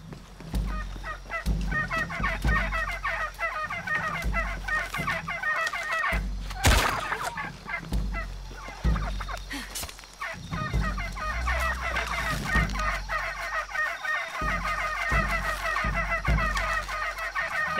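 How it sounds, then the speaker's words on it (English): Fowl calls in a video game, with a chicken clucking repeatedly amid layered bird and farmyard sounds, steady and fairly loud throughout with a few sharp louder bursts. "It's a chicken!"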